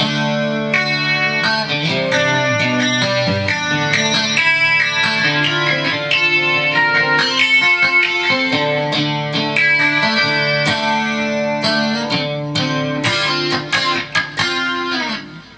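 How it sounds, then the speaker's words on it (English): Electric guitar, through a Zoom G5 multi-effects pedal, plays a steady basic riff with a shimmering chorus effect and spacious reverb, loud and continuous throughout. "Chorus and reverb."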